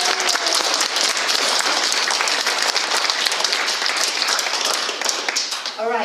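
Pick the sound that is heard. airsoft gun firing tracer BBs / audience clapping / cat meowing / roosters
audience clapping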